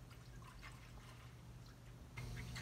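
Almond milk pours into a container with a faint, soft liquid trickle, steady and quiet, growing a bit fuller near the end.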